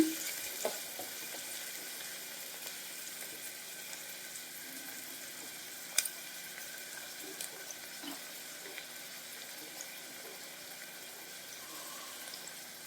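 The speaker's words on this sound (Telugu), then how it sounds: "ముందుగా మనం కట్ చేసి పెట్టుకున్న ఉల్లిపాయల్ని యాడ్ చేద్దాం. ఇలా యాడ్ చేసుకొని ఫ్రై చేసుకోవాలండి." Chopped onions fry in a pan over a medium flame with a faint, steady, low sizzle and a few soft clinks and taps, heard from a distance with no talking.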